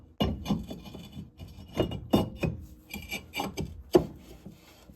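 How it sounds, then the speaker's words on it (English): A brake drum slides back onto the rear hub of a 2019 Ford Fiesta with close metallic scraping and rubbing, broken by several sharper knocks and clanks. "we can slide our drum back on."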